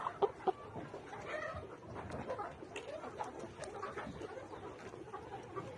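Layer hens kept on a farm, headed for cages, cluck steadily together in a busy chorus of overlapping calls at moderate distance, with a couple of sharper clucks near the start and no talking.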